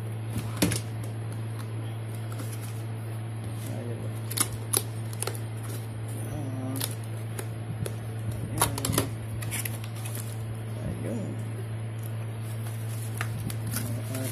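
A newly bought gaming keyboard typed on at a home PC, producing scattered sharp clacks and short runs of keystrokes over a steady low electrical hum, close and moderately loud, with long gaps between presses.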